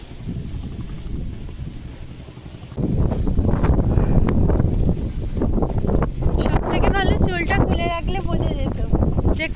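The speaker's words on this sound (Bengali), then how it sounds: "কতটা কতটা পরিমাণ হাওয়া দিচ্ছে" Wind blows outdoors and buffets the microphone in a low, rumbling roar that swells suddenly partway through and then stays strong. A voice is heard over it, and thin chirping sounds appear near the end.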